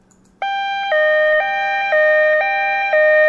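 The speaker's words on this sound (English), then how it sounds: "We have what's called the European siren." A two-tone European-style siren alternates between high and low pitches in an even hee-haw rhythm, loud and close, after a moment of quiet.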